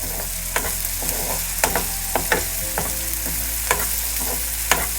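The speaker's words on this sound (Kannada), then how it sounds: "ಇವಾಗ ಇದೆಲ್ಲ ಫ್ರೈ ಆಗಿದೆ" A tempering sizzles steadily in a pan while being readied for Bambino vermicelli upma, with a loud hiss and regular spoon scrapes every half second or so; no voices.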